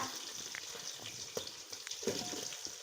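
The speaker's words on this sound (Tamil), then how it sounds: "வெங்காயத்தை கிண்டி கொடுத்து ஒரு பத்து நிமிஷத்துக்கு நல்லா வதக்கிக்கோங்க" Sliced onions for seer fish biryani frying in a pan, a soft, low sizzle with a few light stirring taps scattered through it, fairly quiet and close.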